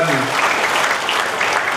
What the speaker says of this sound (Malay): kita patut beri tepukan gemuruh